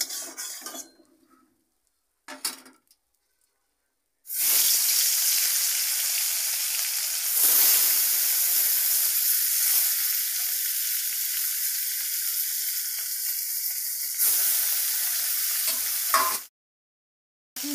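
Bhetki fish fries in freshly topped-up oil with a loud, continuous crackling sizzle that runs steadily for about twelve seconds, with a few short clatters before it begins.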